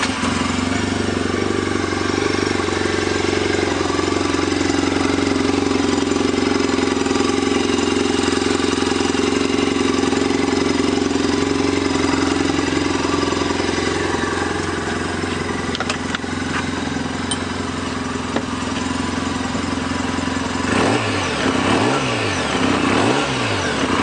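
A 2014 Arctic Cat Wildcat Trail XT side-by-side engine runs steadily up close, holding a rough idle with a couple of quick rev blips near the end, and no one speaking.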